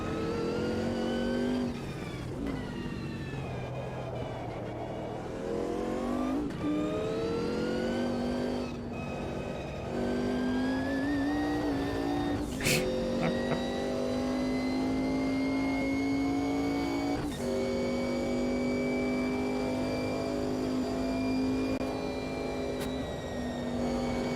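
Group C prototype race cars in Automobilista 2, with H-pattern gearboxes, roar continuously and loudly, revving up and down through gear changes with rising and falling engine pitch and occasional tire squeal.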